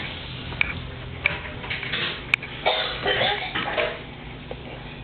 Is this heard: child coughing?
yes